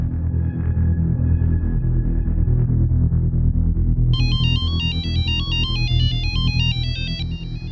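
An electronic phone ringtone plays a repeating melodic pattern over a continuous low rumble of background noise.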